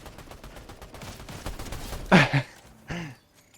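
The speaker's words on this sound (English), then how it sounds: "Footsteps and gunshots on me that can't hit the broadside of a barn" A short burst of gunfire in an online shooter match, a couple of loud cracks close together then one fainter shot, over low background game noise.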